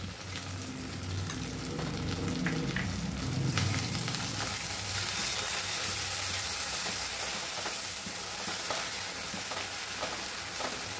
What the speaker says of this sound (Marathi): त्याला छान असं परतून घ्यायचं.